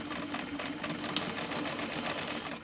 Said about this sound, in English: I'm going to hold that seam flat and then backstitch at the other end.